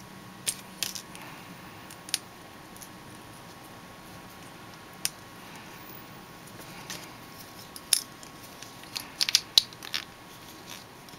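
Sharp, isolated snips of a cutter clipping yellow trim pieces off a plastic runner of a 1/144 High Grade Sazabi Gundam model kit, close and fairly quiet, scattered across a hushed room with a quick cluster near the end.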